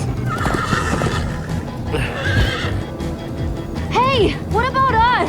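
Horses neigh twice in a Minecraft: Story Mode chase, loud rising-and-falling whinnies near the end over steady galloping hoofbeats, with a voice shouting at the start.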